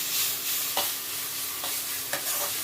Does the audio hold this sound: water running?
no